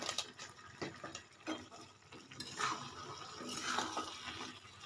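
Sugar being stirred into a thick banana flower curry in a pan, soft wet scraping and squelching strokes in an irregular rhythm, quiet and close with no talking.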